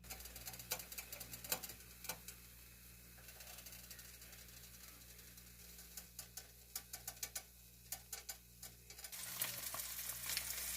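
A grilled ham and cheese sandwich fries in a pan with a steady low sizzle, broken by scattered sharp clicks and taps of a utensil that bunch together in the second half and grow busier at the end.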